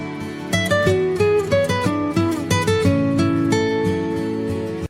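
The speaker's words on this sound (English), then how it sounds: "That is the Nokia ringtone." The Nokia mobile phone ringtone plays as a clear, loud melodic run of bright plucked electronic notes in a quick rhythmic phrase, alone without any talk.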